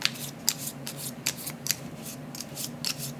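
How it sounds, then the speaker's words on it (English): A deck of board game cards is shuffled by hand, producing a quick run of crisp riffling bursts and soft rubbing, close and clear with no talk. "And we'll shuffle these back into the Gary deck."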